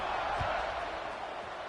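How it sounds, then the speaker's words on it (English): A football stadium crowd at a Northwestern game keeps up a steady, far-off buzz of mixed voices at moderate level. One brief low thump sounds early on, and no single voice stands out. "this crowd is buzzing after that last score"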